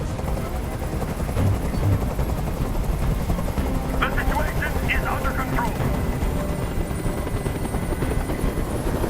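A helicopter's steady rotor thrum in the game Detroit: Become Human fills the scene continuously, with a person speaking briefly over the droning engine.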